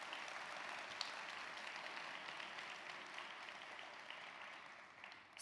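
A graduation ceremony audience at Babcock High School applauds, a faint, steady wash of clapping that holds evenly for several seconds before tapering slightly at the end.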